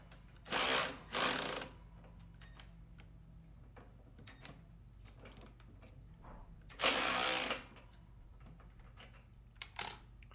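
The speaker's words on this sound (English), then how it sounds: "I'll go ahead and run these bolts down tight." Bolts are run down tight on a Hustler mower deck grass flap with a power tool: two loud bursts of driver whirring near the start and one more later, with quiet clicks and handling noises in between.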